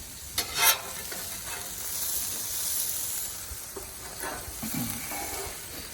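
Breakfast food frying on a Blackstone griddle, a steady close sizzle running throughout with a few brief scraping and clacking spatula touches near the start and later on.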